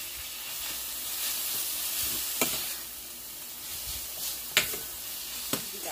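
Breakfast quesadilla filling sizzles steadily in a hot pan while being stirred, a close, even hiss broken by a few sharp utensil clicks and scrapes, with no voices.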